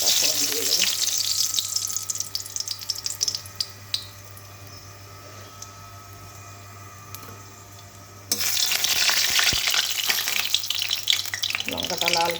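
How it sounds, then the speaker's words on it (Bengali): Dal being tempered in a hot kadai: a steady, moderate sizzle that erupts into a loud, dense spitting sizzle partway through, close up. "ডালটা ফোড়ন দিয়ে দেবো"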